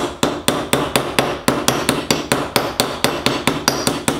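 Steady hammer blows closing a cold rivet, roughly four per second, sharp and ringing metal, close by with no talking.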